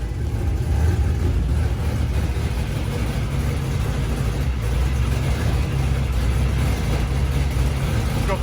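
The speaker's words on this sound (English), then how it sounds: "Rough idle though." An LS-swapped Mazda Miata, fitted with a Mishimoto radiator, idles roughly on its first start, a loud continuous low rumble that stays steady throughout.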